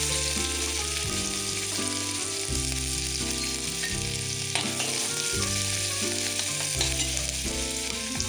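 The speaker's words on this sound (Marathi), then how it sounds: "तेल गरम झालेलं आहे आपला आता याच्यामध्ये जिरं टाकून घेते कांदा" Cumin seeds and onion fry in hot oil for street-style veg momos, a steady loud sizzle running throughout with a faint stirring layer and no voices.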